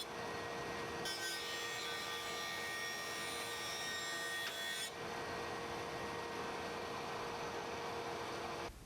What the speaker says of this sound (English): I'm actually going to go ahead and finish milling it completely down to the final thickness I need it to be